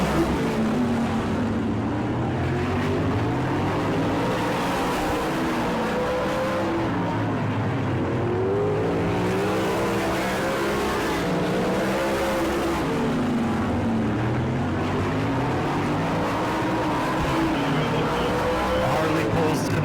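Race cars circling a short track at Auburndale, engines droning and swelling as the pack passes in repeated waves, with a race announcer talking over the noise.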